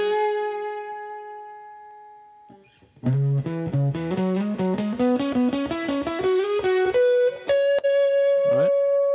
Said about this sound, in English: I'm overdriving the input, so it's distorting a little bit